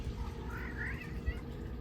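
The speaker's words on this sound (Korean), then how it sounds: "처음 본 고양이가 뒤따라오고 있습니다" A stray cat following someone outside a house gives a short, moderately faint meow over outdoor background noise, with no talking.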